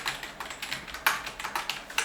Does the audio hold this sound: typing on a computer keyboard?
yes